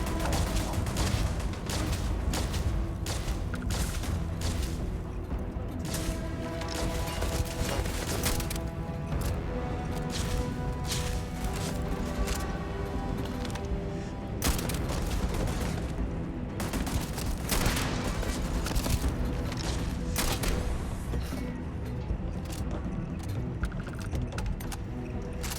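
Turret gunfire in Starfield rattles continuously amid a dense battle din, with repeated sharp bursts and booms layered throughout, steady and fairly loud with no clear talk.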